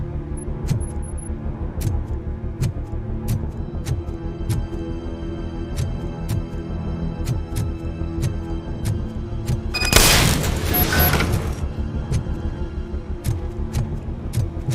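A fuse box is blasted apart in the RoboCop: Rogue City video game, a sharp burst of crackling destruction rising suddenly out of a steady rumbling game soundscape dotted with regular clicks.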